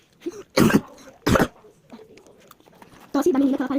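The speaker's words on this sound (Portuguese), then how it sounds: "Tosse da menina que ela parecia um elefante tossindo." A girl coughs loudly in two sharp, harsh bursts, then a third rougher cough with a low, trumpeting quality, with quiet breathing and faint background sound between them.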